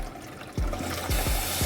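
Water poured from a can into a cooking pot of rice and cabbage, a short, close splashing and gurgling stream that swells louder after a moment and runs steadily to the end.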